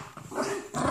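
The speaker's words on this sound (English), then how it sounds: "Oh, no growling and no fussing." Dogs growl low and close in short rumbling bursts, loud and rough, with no talking over them.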